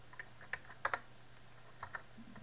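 Faint, sparse clicks of typing on a computer keyboard, a handful of quick keystrokes close by over a low steady hum.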